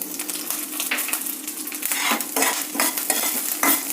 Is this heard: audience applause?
no